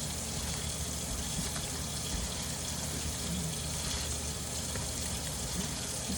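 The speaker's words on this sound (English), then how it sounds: "let me turn my water back on so that way I can rewash my hands once I'm done" A kitchen tap runs water steadily and loudly, a continuous close hiss and rush of flowing water with no voices over it.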